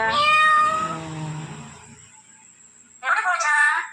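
A cat meows twice nearby, a drawn-out call followed by a shorter one after a pause.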